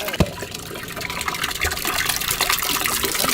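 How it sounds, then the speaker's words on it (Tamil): Water is poured into a pot, a continuous splashing gush with a sharp knock at the start, moderately loud and close, with no talk over it. "ஊத்திட்டாயே குடத்துல தண்ணி"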